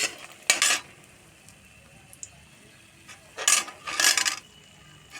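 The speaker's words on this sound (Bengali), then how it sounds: "হালকা করে বড়ি ভেজে নিলাম" Bori (lentil dumplings) frying lightly in oil in a pan, a low steady sizzle broken by a few sharp bursts of stirring or scraping in the pan.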